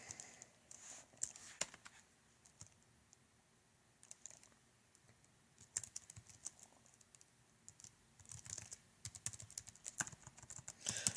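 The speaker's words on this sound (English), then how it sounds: "So I'll type it out." Fingers tap on a computer keyboard in uneven bursts of soft clicks, quiet and close, with brief pauses between runs of keystrokes and no talking.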